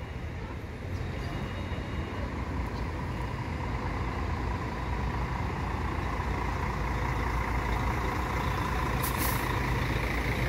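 A Gontijo coach bus maneuvers at the Belo Horizonte bus station, its heavy diesel engine rumbling steadily and loudly throughout, with a brief hiss of air brakes near the end.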